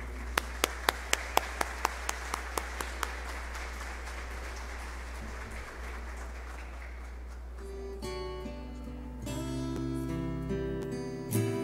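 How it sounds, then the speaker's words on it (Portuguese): Audience applause at a formal legislative session honoring women, opening with a handful of sharp single claps before swelling into steady clapping over a low hum, then giving way to organ-like sustained music near the end. "peço para os colegas uma salva de palmas para você"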